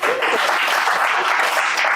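Clapping during a live online marketing broadcast: a dense, steady patter of claps running continuously at even loudness for the whole two seconds, with no voices over it.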